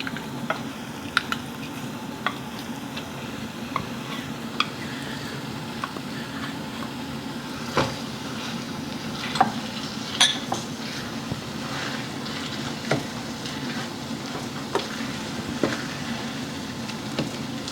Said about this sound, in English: make sure that we mix very well with mango, and try to smash all lumps